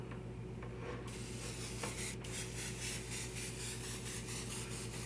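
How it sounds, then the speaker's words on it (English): An airbrush sprays a Vallejo wash onto a quarter-scale custom Hulk figure, a steady close hiss that starts about a second in and runs on evenly with no speech. "I can just spray them right on my airbrush."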